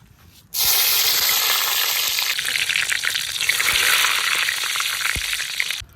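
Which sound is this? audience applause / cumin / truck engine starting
cumin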